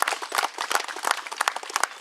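A crowd claps together in a quick, dense patter of hand claps for a couple of seconds at a Red Cross tidal wave drill, with a voice faintly underneath.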